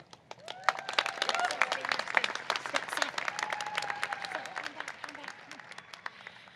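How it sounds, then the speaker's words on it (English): A crowd breaks into loud, sustained applause, dense clapping with a few cheers rising and then gradually tapering off. "can we get a big round of applause for Seth?"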